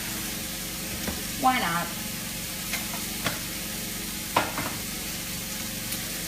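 A tab of butter sizzles and fries in a sauce for French dip sandwiches, giving a steady close crackle. Occasional stirring clinks and bumps sound over it, and a voice speaks briefly.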